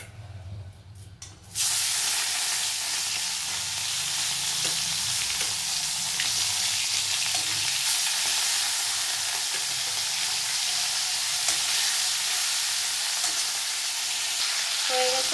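Hilsa fish frying in hot oil in a wok, a loud, steady sizzle that bursts in after a quieter opening and holds strong and unbroken to the end.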